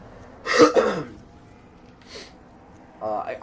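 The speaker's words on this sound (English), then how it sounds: "real sorry about the coughs, guys." A harsh cough near the microphone, then a shorter cough and a brief vocal sound, with quiet pauses between.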